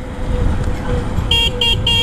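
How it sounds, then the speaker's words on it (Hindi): Horn of a 2024 Honda SP 160 BS7 motorcycle, sounded in three short, close, bright beeps over a steady idling engine and road noise. "ऐसा कुछ हॉर्न मिलता है।"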